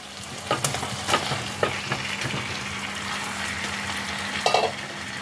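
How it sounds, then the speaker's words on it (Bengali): Boiled potatoes tipped into a pan of hot spices for potato dum sizzle and fry steadily, with scraping stirs and a few sharp clunks of a spoon against the pot, fairly close. "এবার আমি এর মধ্যে দিয়ে দিচ্ছি সিদ্ধ করে রাখা আলুগুলো।"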